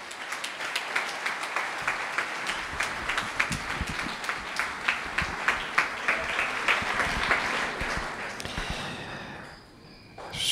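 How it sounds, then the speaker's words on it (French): An audience at a storytelling evening claps warmly for a novelist and playwright, a dense rolling applause that builds, holds for several seconds, then fades quickly to near quiet. "Merci d'applaudir très fort Didier Van Covelart."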